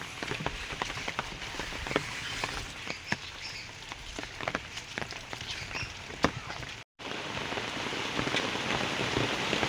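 Heavy rain pours down continuously in a steady, dense hiss with close pattering drops striking surfaces nearby. It holds at an even loudness apart from a momentary gap.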